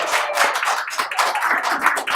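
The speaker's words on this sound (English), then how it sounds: "give me a nice big clap" An audience claps together in a lively burst of dense, overlapping handclaps, close and fairly loud, lasting about two seconds without any speech.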